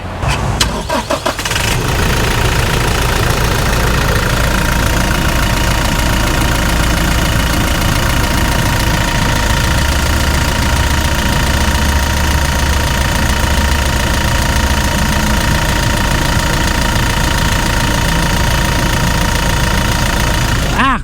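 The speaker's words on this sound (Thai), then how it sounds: "ฟังเสียงเครื่องยนต์กันหน่อยดีกว่าฮะ" A 2019 Toyota Fortuner 2.4V diesel engine idles steadily and loudly with a low, even rumble and clatter after a brief startup burst.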